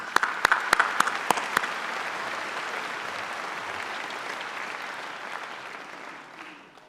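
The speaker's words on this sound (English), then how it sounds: "Let's give them all a round of applause" Audience applause at a West Kentucky Community and Technical College fall commencement ceremony, a steady crowd of clapping that holds for several seconds and then tapers off, with a few sharper claps standing out near the start.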